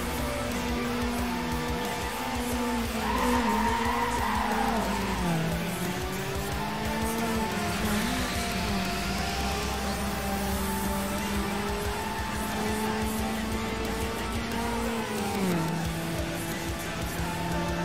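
Engine roar and tyre screech from a video-game drag race, with a race car revving steadily and skidding throughout. Pitch sweeps rise and fall over a constant loud mechanical drone.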